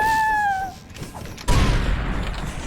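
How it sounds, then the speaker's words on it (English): Explosions in a video game: a brief tonal whine cuts off, and a sudden loud boom follows, rumbling on with crackling noise as it fades. "Explosions! Explosions!"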